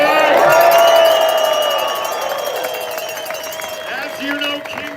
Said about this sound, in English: I want a big round of applause for our straight allies